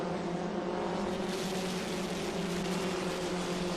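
F1600 open-wheel race cars at Road America, a steady droning engine roar from several cars heard at a moderate distance, continuous and fairly even in level with no talk.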